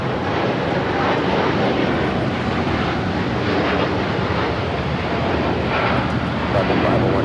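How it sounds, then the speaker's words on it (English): A United Airlines Boeing 787-9 Dreamliner takes off from LAX, a loud, sustained broadband jet roar that fills the whole stretch, with voices talking over it. "This is United Airlines Flight 32 taking off to Tokyo Narita on the 787-9 Dreamliner."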